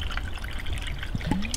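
Water trickles and splashes steadily into a snake enclosure, close by, in one brief continuous pour.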